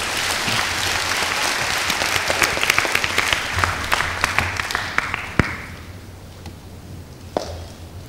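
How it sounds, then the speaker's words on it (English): An audience at a public health forum on diabetes and kidney failure breaks into sustained applause, a dense wash of clapping that gradually thins out and fades near the end. "Can we put our hands together and welcome Dr."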